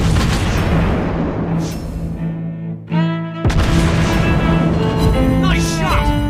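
The British cruiser Edinburgh's naval guns boom and hit a target in World of Warships Blitz, loud and continuous rumbling with heavy impacts. A brief gap follows, then the clamor resumes, with voices speaking over it.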